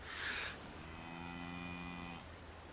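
A cow lets out one long, loud, sustained moo close by, lasting well over a second before it trails off, preceded by a brief rush of noise.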